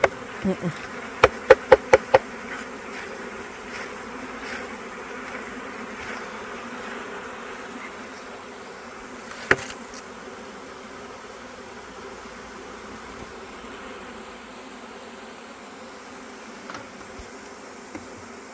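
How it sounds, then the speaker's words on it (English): Honeybees buzzing around backyard hives on a homestead, a soft steady drone throughout, broken by a few sharp clicks and knocks early on and one louder knock midway. "I'm not freaking out with all these bees buzzing around me"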